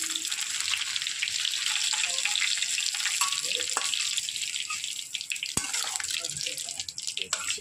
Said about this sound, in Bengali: চিকেনগুলো সব ভেজে নিচ্ছি।